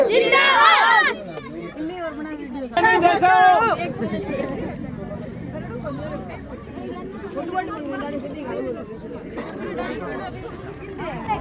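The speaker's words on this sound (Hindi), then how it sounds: "ये इतनी भीड़ आ रही है" Chattering crowd gathering at a ward election campaign, many overlapping voices forming a close, busy hubbub with a louder burst near the start and again around three seconds.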